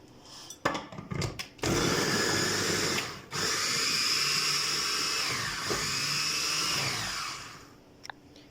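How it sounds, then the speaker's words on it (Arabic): Electric chopper whirring loudly as it minces garlic, spices and other ingredients for a potato and chicken tagine, after a few clicks and knocks, a steady high motor drone with a brief pause and slight pitch dips. "هنفرم المكونات دي كلها"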